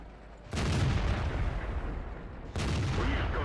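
Tank cannon blasts in World of Tanks, two heavy booming shots about two seconds apart, each followed by a sustained rumbling tail, heard without any talking.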